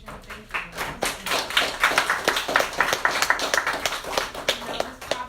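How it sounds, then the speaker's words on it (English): Quick round of applause from a small audience at a city human relations commission meeting, a cluster of brisk, close hand claps building to a steady patter and trailing off after several seconds. "just kind of real quick applause for our updates from the city and for that wonderful presentation"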